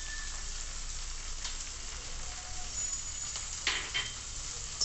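Ginger paste and green chilli paste fry in a pan for shahi paneer, a steady low sizzle with a couple of brief stirring clinks near the end.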